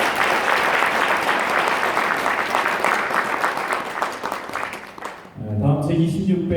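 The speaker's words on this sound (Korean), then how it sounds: "여러분 큰 박수로 환영해주시면 감사하겠습니다." Sustained applause from an audience at a Korean child welfare association's 70th anniversary ceremony greets an arriving guest, loud and dense for about five seconds before fading as a voice begins speaking.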